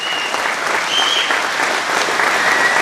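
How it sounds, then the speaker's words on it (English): A gathered crowd applauds John and Sue at their 60th wedding anniversary, a dense, steady roar of many hands clapping close and loud throughout. "could we get everyone to do a round of applause for John and Sue for creating this awesome place for us?"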